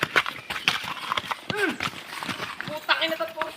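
Horse hooves clip-clopping on a rocky path in a rural setting, uneven close hoofbeats under people talking.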